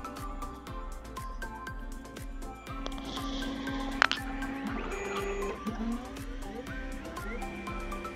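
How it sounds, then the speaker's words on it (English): A da Vinci mini w+ 3D printer lays down a raft, its stepper motors buzzing and whirring in rapid rhythmic sweeps with shifting tones, close and steady, with no voices. "it's now printing a raft"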